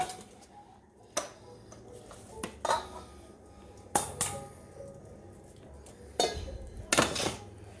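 Mushroom meatball mixture made with flour and breadcrumbs being turned out into a bowl, a series of sharp clinks and knocks of utensil against bowl spaced irregularly over quiet background.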